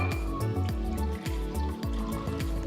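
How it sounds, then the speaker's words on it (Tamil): Cooking water being drained off rice in a kitchen, a steady close pouring and splashing stream with rhythmic glugs and surges. "இப்போ நான் தண்ணியை வடிச்சிடுறேன்."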